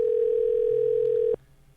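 A steady telephone tone sounds on an outgoing call, loud and unbroken for over a second, then cuts off abruptly and leaves a faint low hum.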